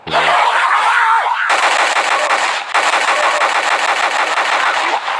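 Sustained rapid automatic gunfire in a zombie video game, loud and continuous with brief breaks, after a short vocal sound at the start.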